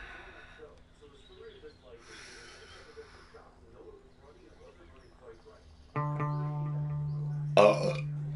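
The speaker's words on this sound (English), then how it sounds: "That was a loud ass burp." A single loud, drawn-out burp rumbles up after a stretch of quiet background murmur and lasts about two seconds, cut off by a short sharp noise.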